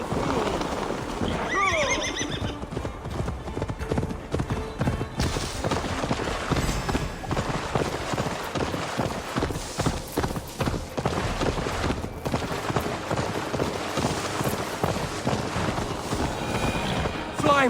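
Galloping horse hooves pound steadily in Assassin's Creed Valhalla, a whinny rising early over the run, with music and a voice mixed throughout at constant loudness.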